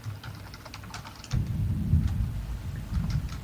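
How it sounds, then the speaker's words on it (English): Low thunder rumbles through a livestream, a steady bass roll that swells about a third of the way in and stays loud, with faint crackly rain-like ticks over the top and no talking. "Can you hear that thunder that's rumbling?"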